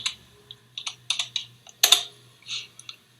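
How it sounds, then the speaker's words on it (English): Someone types a word on a computer keyboard: a short run of crisp, close key clicks in quick irregular taps, with no voice. "when we type in the word soul"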